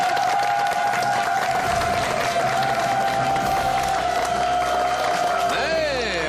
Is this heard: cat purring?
no